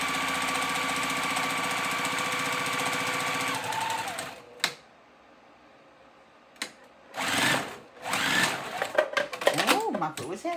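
A sewing machine stitching a cow print ribbon tutu, running in a steady loud whirring drone that stops abruptly midway, followed by a clunk, rustling handling of fabric and someone talking.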